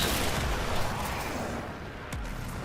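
A heavy-recoil video game weapon's secondary fire lets out a loud, continuous roaring blast, a thick wall of rumbling noise with a short sharp crack near the end.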